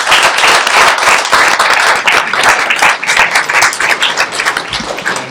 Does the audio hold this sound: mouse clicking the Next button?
no